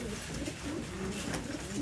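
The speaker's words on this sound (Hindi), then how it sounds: "ये देखें जी, कबूतर देखें माशाल्लाह से।" Colorful double-crested Lal chilli Ambarsariya pigeons cooing softly in low, throaty murmurs beneath steady background noise.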